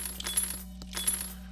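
Keys jingle with small metallic clinks as they are picked up in a video game, two brief bursts of light rattling, with no talking.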